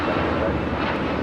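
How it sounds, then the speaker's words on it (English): An American Airlines Airbus A319 taking off at LAX gives a steady, broadband jet-engine roar, loud and continuous for the whole short stretch. "A319 with American taking off to San Antonio, flight 2299"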